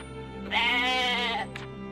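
A goat in the video game Atelier Ryza lets out a single sustained, wavering bleat lasting about a second, loud and clear over a quiet game backdrop.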